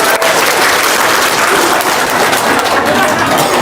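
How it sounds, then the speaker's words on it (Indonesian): Loud, dense audience applause at a charity gathering, a continuous wash of many hands clapping without pause, close and filling the whole stretch. "Tepuk tangan dong."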